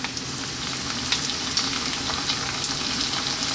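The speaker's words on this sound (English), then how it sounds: "What we're going to do now is drop in our garlic ginger paste," Garlic ginger paste sizzles in a hot pan for red lentil dal, a steady, dense crackling hiss that holds at an even level throughout, with no talking.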